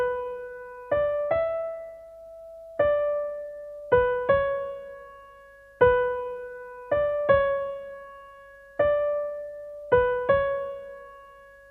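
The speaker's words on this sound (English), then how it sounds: "So if we listen to the top line melody on its own" A simple synth or plucked top-line melody for a beat plays alone, bright notes stepping up and down in a steady repeating rhythm, each note sharp at the start and ringing out, clear and close with no voices.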